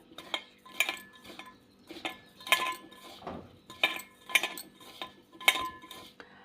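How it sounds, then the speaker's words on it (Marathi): Utensil stirring varai flour and sabudana rice flour together in a metal bowl for fasting bhaji, giving a steady series of close clinks and scrapes, roughly one every half second, with a brief pause midway. "आता हे मिक्स करून घ्यायचं आहे"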